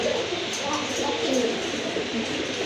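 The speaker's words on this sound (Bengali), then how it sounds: "আর এক জোড়া কবুতর দেখতে পাচ্ছেন" Pigeons offered for sale cooing in a steady, dense murmur that runs throughout, with other bird calls and faint voices mixed in nearby.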